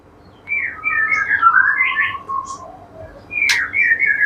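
A bird sings alone, a white-rumped shama, in varied whistled phrases and sharp chirps, loud and near over a faint low background hum.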